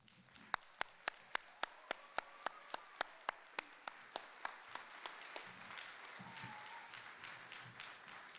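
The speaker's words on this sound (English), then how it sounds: "Let's give a big round of applause and welcome Raven Odyssey." Audience applause welcoming the performers of Raven Odyssey at a theater event in Douglas, Celebration 2006: sharp, evenly spaced claps up front, then a denser wash of clapping from the crowd.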